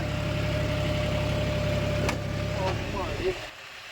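A John Deere 5045 tractor pulling a 5-furrow plough gives a loud, close, steady engine drone under load that eases slightly and thins out near the end.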